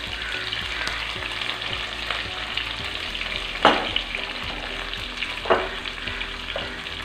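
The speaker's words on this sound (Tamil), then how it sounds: "இப்போ இது கொஞ்சம் நல்லா வதக்கிக்கலாம்" Curry leaves and potato sizzle and fry steadily in a hot pan, with a few sharper crackles and stirring scrapes rising above the continuous hiss.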